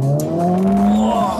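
Honda Civic Type R, FD2R or turbo FL5, accelerating hard out of a corner, its engine note rising steadily and loud from inside the cabin, with a faint tire squeal early on and no talk.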